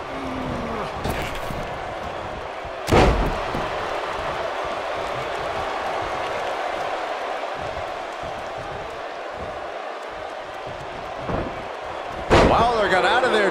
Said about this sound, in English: And he slams him down.